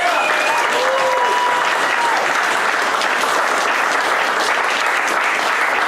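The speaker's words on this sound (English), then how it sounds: "Give those people a round of applause." Sustained audience applause fills the room at a golf tournament gala honoring donors, steady and dense throughout, with faint voices mixed in under the clapping.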